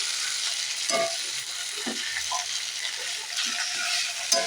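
Pumpkin and okra frying in a pan with spices, a soft steady sizzle broken by several scraping strokes of a spatula stirring the vegetables, close and fairly quiet.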